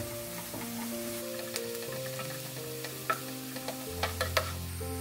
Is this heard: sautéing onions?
yes